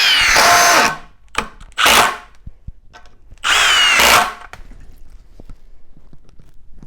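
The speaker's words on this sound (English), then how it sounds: "All of these drills have been used in their highest mode." A Milwaukee Surge Gen 3 impact driver run in its highest mode gives three loud, close bursts of high-pitched whirring and hammering, each about a second long, separated by short pauses with small clicks and handling noises.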